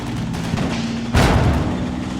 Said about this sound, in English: as it's trundling through here, they fire their shot off